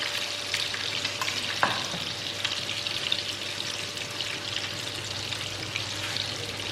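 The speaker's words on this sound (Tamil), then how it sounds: "ஆயில் நல்லா ஹீட் ஆயிடுச்சு. இப்போ நம்ம செஞ்சு வச்சிருக்கிற பேட்டிஸை வச்சிடலாம்" Chicken burger patties fry in hot oil, giving a steady, close, even sizzle with a single knock early on and no talking.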